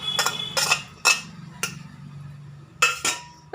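Dried black grapes, nuts and fruit are tossed together for homemade badam falooda, giving a few sharp clinks and knocks of spoon against a dish in separate bursts, close and fairly loud with quiet gaps between.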